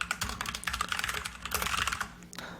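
Quick, close typing on a computer keyboard, a dense clatter of rapid key taps with a brief lull midway, no talking.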